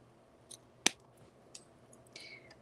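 Jewelry cutters snip a wire for an earring with one crisp, sharp click, followed by faint small handling ticks in a quiet room.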